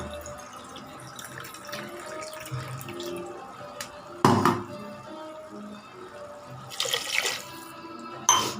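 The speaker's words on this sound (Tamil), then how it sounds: "இப்போ வந்து நான் வந்து ரெண்டு கிளாஸ் தண்ணி ஊற்றிக்கிறேன்" Water runs in short bursts from a tap, splashing into a cooking pot for millet sambar rice amid quiet kitchen clatter and a few metallic knocks.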